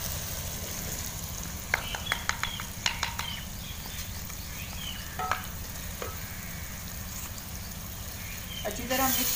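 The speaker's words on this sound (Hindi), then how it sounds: "अच्छी तरह मिक्स करते हैं, 2 मिनट तक और भून लेते हैं।" Red chili powder, coriander powder, kasuri methi, salt and turmeric fry with tomatoes for aloo bharta, a steady close sizzle broken by scattered scraping clicks of stirring, with a faint voice now and then.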